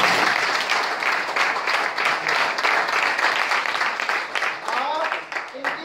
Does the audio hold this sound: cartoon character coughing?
no